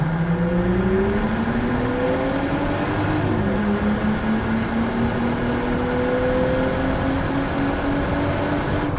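1999 Plymouth Prowler with low miles accelerating hard on a test drive, a loud steady engine drone rising in pitch through a gear, then climbing again under constant road and wind noise.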